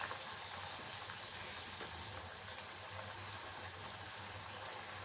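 Aloe vera hair oil simmers over a low flame, a steady soft hiss of fine bubbling that holds evenly throughout, faint and uninterrupted with no voices.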